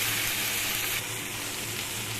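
Vegetables fry in a pan with whole five-spice seeds, giving a steady, loud, close sizzle that runs unbroken and alone.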